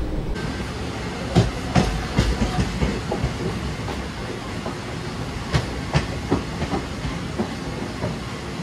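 A moving train from Azimganj rumbles steadily on the tracks, with repeated clacking beats from the wheels and a constant hissing roar, close and loud.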